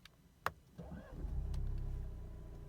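A 2017 Alfa Romeo Giulia starts up: a click, a brief whir of the starter, then the engine catches and settles into a steady low idle.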